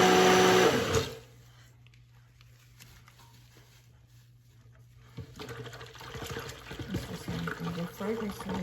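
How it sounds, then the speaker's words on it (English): A stick blender whirs loudly at the start of a soap-making session, cutting off after about a second; a low steady hum and faint handling clatter follow, with scraping and cleaning noises building toward the end. "So I'm just trying to clean off my stick blender a little bit here."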